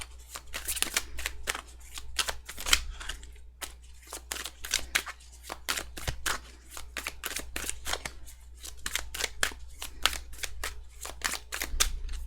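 Tarot cards being shuffled in a long, steady run of crisp riffling snaps and slaps, close and fairly quiet, with no talking over it.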